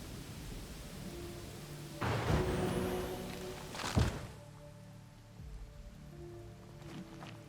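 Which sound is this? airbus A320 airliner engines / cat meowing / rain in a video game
rain in a video game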